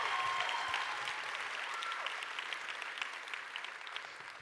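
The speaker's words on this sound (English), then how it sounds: "please join me in giving her a round of applause" An audience at a young women's leadership summit applauds with sustained, dense clapping that stays strong throughout and tapers slightly toward the end, with no voices.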